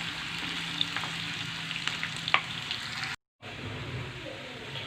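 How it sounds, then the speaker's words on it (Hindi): Onions frying in a pan until golden brown for an Odia cabbage curry, a steady soft sizzle with occasional crackles and stirring clicks, briefly cut to silence near the end before the sizzle resumes. "पियाज मो गोल्डन ब्राउन होला पर्यंत फ्राए कर देबी।"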